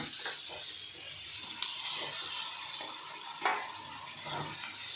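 Two large cut tomatoes hitting hot oil in a frying pan, giving a steady broad sizzle with a few sharper stirring clicks and spatula scrapes, close and moderately loud without any talking.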